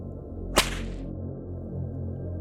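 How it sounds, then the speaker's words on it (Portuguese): One sharp, loud whip crack snaps out as a storytelling sound effect, then rings off briefly into a steady low background with no voices. "Ao ouvir o estalido do chicote, Zé disparou na carreira, seguido pelo João"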